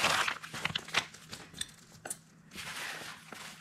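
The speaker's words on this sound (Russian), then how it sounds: "Давайте откроем вот этот пакетик и посмотрим, что там у нас есть." Crinkling and tearing of a plastic packet of DJI accessories being opened, with irregular close crackles and rustles, and no talking.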